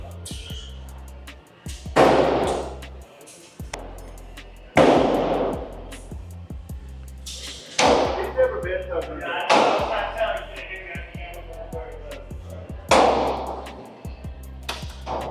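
Gunshots ring out at an indoor shooting range, roughly half a dozen loud, sharp reports spaced a couple of seconds apart, each with a ringing tail, under a person talking.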